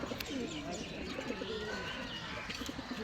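Soft repeated cooing of breeding pigeons close by, with a few chirps mixed in over a busy background murmur.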